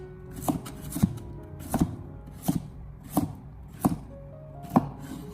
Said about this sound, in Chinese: 再把白萝卜给它分切成均匀大小的小块